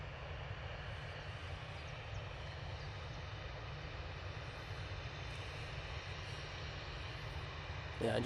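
A Cathay Pacific airliner arriving at Manchester Airport gives a steady, distant engine rumble and broad roar that holds evenly throughout, with a faint bump near the end.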